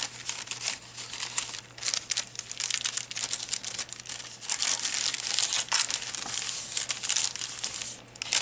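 Tracing paper crinkles and rustles continuously as it is handled for a pen pal traveler's notebook, close and fairly loud, with crisp crackling bursts and brief pauses and no voices.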